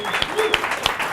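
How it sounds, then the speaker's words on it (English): An audience of donors at the preview of a newly reopened museum claps in a brief, lively burst, with individual hand claps standing out close by. "Give yourself a round of applause,"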